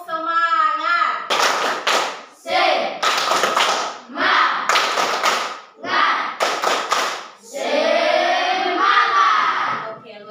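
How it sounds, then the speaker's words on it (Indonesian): A classroom of students claps a rhythmic tepuk semangat cheer together, several bursts of sharp unison claps alternating with chanted voices. "Nah, kita tepuk semangat dulu. Tepuk semangat."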